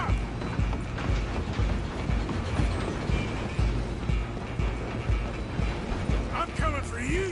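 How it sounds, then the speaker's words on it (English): Moving train in Red Dead Redemption 2, a steady rumbling rattle of rail cars and clattering wheels running throughout, with hoof-like clopping and whistling tones near the end. "I'm gonna ride ahead and stop the train."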